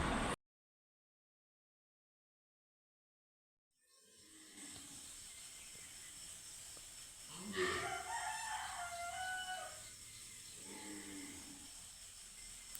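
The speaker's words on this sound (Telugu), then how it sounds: "సో వినిపిస్తుందా కోడి కూతలు?" Roosters crowing in the early morning at a home, heard after a few seconds of silence as a crow rises mid-clip over steady background hiss, fairly faint and distant.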